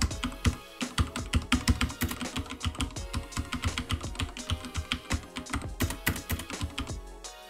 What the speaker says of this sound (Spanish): Mi teclado utiliza los de color rojo y así es como suenan